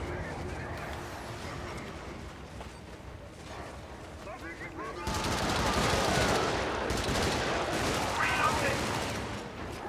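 Gunfire and a burst of flames from an incendiary bomb thrown in a combat video game, a dense roaring rattle of shots that grows louder halfway through, with people talking over it.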